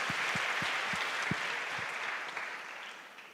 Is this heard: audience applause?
yes